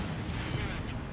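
A fuel-air (FAE) bomb detonating in the jet combat game Ace Combat Infinity produces a dense, sustained, roaring wash of blast noise that fills the whole moment without a distinct sharp onset, with a possible voice mixed underneath.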